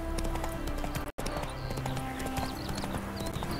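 Horse hooves clip-clop in The Witcher 3, a steady near trotting rhythm mixed with ambient game sounds, faint birdlike chirps and a brief dropout partway through.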